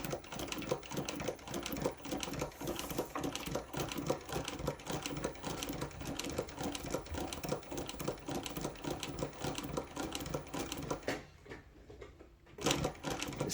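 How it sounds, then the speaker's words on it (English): A restored Cornely A chain stitch embroidery machine runs steadily, with a fast, continuous mechanical stitching rhythm close by. It stops briefly near the end and then starts again. "I'm gonna do a quick stitch sample now, try to write the alphabet"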